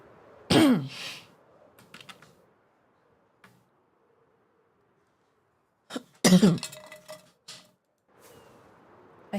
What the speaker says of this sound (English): I hate having coughs.